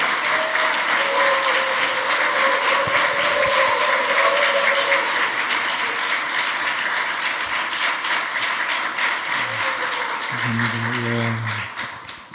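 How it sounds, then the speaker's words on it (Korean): A church congregation at a Friday Holy Spirit service claps to welcome pastor Park Jong-gil, sustained loud applause that tapers off near the end as low tones come in. "박수로 환영해 주십시오."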